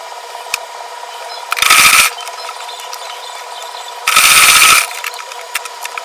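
Sewing machine stitching a dart on Ankara fabric, two short loud whirring runs of about half a second each, separated by quieter clicks and a steady background hum.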